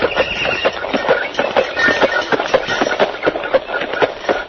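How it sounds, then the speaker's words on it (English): Horse hooves clip-clop in a steady rhythm as an 1896 horse-drawn milk wagon moves along, with a whinny rising over the hoofbeats. "milk was delivered in a horse-drawn milk wagon"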